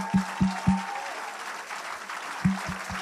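Church congregation clapping in rhythm during a sermon: loud, evenly spaced hand claps come in a burst of three, pause under a sustained voice or tone, then return as another short run of claps, with crowd murmur underneath.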